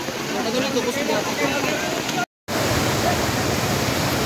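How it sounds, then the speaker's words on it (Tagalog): Strong, fast river water rushes along a riverside in Mati, Davao Oriental: a steady, dense roar close by, broken only by a very short dropout partway through. "live po tayo dito sa may Riverside ng Mati, Davao Oriental na napakalakas po ang pagragasa ng tubig"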